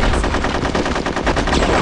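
Rapid automatic gunfire rattles in Conker's Bad Fur Day, a loud, unbroken burst of closely spaced shots throughout.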